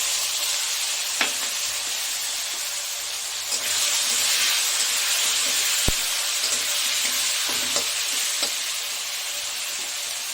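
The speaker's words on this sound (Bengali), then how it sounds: "আলুটা আমার অনেকটাই ভাজা হয়ে গেছে এবার দিয়ে দেবো লঙ্কা টমেটো পেস্টটা দিয়ে দেবো" Potato pieces sizzle steadily in hot oil in a pan during home cooking of a jackfruit kofta curry, a continuous close hiss broken by a few sharp clicks of a utensil.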